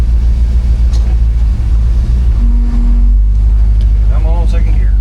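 A stock-build car engine, timing advanced to 25 degrees, revs on a dyno in a second gear pull, a loud steady rumble with a rising tone near the end and voices talking over it.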